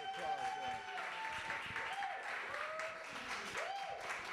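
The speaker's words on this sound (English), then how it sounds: "Let's give William a great round of applause." An audience at a poetry reading in a branch library claps for William, a steady patter of applause with voices and chatter mixed in and some tonal sound over it.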